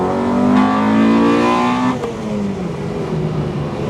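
Honda Integra Type R DC2 with a 1.8-litre engine revving hard, a loud rising harmonic wail that climbs then drops sharply near the two-second mark into a lower settling drone, with no talking.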